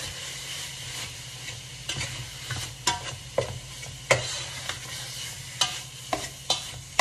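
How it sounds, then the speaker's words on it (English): Ground beef being stirred in a frying pan, a steady low sizzle with repeated sharp spatula scrapes and taps against the pan, growing more frequent toward the end, no talking. "we mix up our ground beef again"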